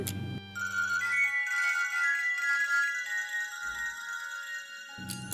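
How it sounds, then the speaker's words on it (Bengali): A phone ringtone plays late at night indoors: a bright, melodic electronic tune of repeating chimes at moderate volume that lasts a few seconds and then cuts off. "কোয়েল এত রাতে ফোন করছে।"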